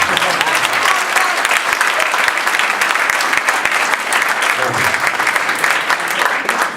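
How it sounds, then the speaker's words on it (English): Conference audience applauding steadily at a Yelp sales conference, dense sustained clapping filling the whole stretch with no speech over it. "Well, clap it up for that."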